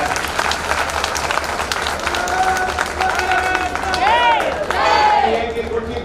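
A crowd claps to greet members of parliament at a public ceremony flagging off the new Udaipur–Ahmedabad broad gauge railway line, with steady applause mixed with speech babble and rising tones over a constant hum.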